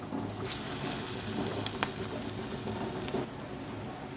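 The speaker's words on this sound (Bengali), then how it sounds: "এবার আমি এটাকে ভেজে নেব ভালো করে" Food sizzling in hot oil in a wok gives a steady, close crackling hiss with a few sharper pops and no voices.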